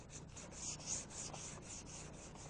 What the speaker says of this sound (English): We're going to be sanding with 400 grit sandpaper to feather edge into the original paint here